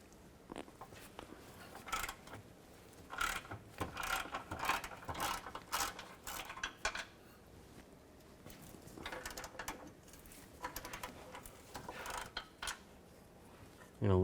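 Ratchet clicking while removing rear engine mount bolts on a 2011–2019 Dodge Grand Caravan, with irregular bursts of ratcheting and metallic clatter at close range, alone and fairly quiet.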